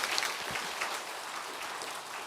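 Audience applause at a Buddhist monk's talk show, a steady dense patter of clapping throughout, fairly close and even, with no voices.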